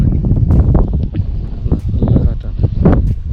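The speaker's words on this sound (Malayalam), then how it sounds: "നല്ല കാറ്റാണ്." Strong gusting wind buffets the microphone on a windy hilltop near caves, rumbling in uneven bursts while a person talks over it.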